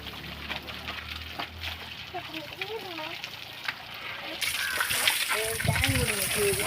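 Water splashes and sloshes continuously as people bathe at a temple water tank while talking and calling out nearby, the splashing growing louder toward the end.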